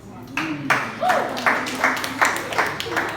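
An audience claps in a series of rhythmic bursts at a leadership talk, fairly close, mixed with a brief voice.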